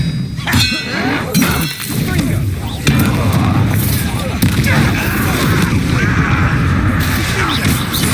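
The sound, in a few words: Expelliarmus spell cast in Hogwarts Legacy video game combat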